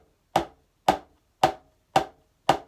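A hand thumping on a table to imitate heavy footsteps, five evenly spaced dull knocks in a steady walking rhythm, close and distinct with silence between.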